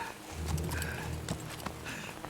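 Hoofbeats of a horse in Metal Gear Solid 3 clip-clop in a steady run of hard knocks over a low game soundscape, moderately loud and close, with no talk.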